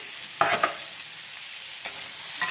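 Spiny gourd (kakrol) frying with green chilli in a pan, a constant close sizzle broken by a few brief scraping stirs of a spatula; no voices.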